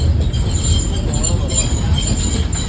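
A train in Matheran, Maharashtra rolls past as a continuous broadband rumble with faint squealing, while people chat nearby over it.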